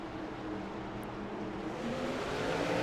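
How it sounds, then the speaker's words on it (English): Race car engines at the South Boston short track during a Short Track Scrambler Series race, heard as a faint, distant, continuous drone that builds slightly louder toward the end, with no voices over it. "this racetrack's about to hear the fire-breathing engines"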